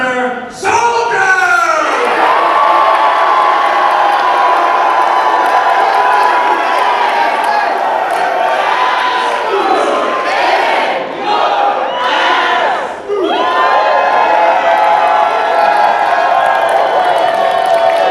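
A large convention crowd at a live wrestling event cheers and shouts loudly for a wrestler, a sustained roar that swells and dips over the whole stretch, with brief voices cutting through.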